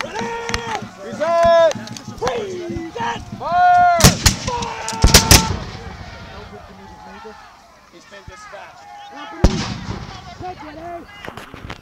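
Musket volleys crack out at a Revolutionary War battle reenactment, several loud sharp bursts in quick succession around the middle, with shouted commands and voices throughout and a final lone shot near the end.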